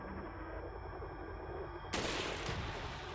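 Gunfire in Resident Evil 4 bursts in abruptly after a quiet, humming stretch, a loud shot with a ringing, noisy tail that stays up to the end.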